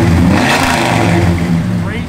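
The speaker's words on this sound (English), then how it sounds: "Go ahead and give it a rev." A 1964 Chevrolet Malibu SS convertible engine with Holley EFI revving, a loud, steady close-up engine roar that eases slightly toward the end.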